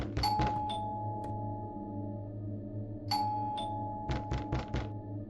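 A doorbell in an indie video game rings out twice as a pair of bright chimes over a low steady hum, followed by a quick burst of knocking thuds near the end.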